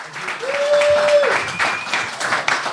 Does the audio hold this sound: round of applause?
yes